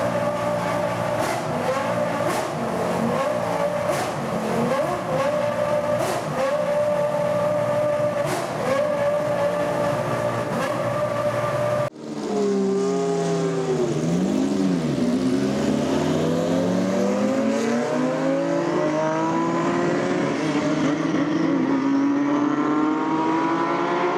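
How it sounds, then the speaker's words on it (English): Two historic Jaguar R3 Formula 1 race cars drive past at Minardi Day, their engines droning loudly and steadily, then one swells with a sweeping pitch rise and fall as it revs through a pass, with no talk. "Here we have a very good duo, couple of Jaguar R3."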